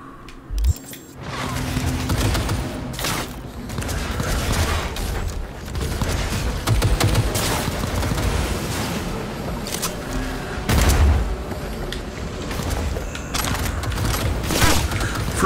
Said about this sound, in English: Frag grenade, nice.